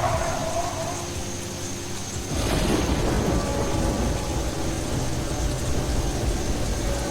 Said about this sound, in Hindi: आसमान फटा और इतनी तेज बारिश हुई कि विंडशील्ड वाइपर बेअसर हो गए।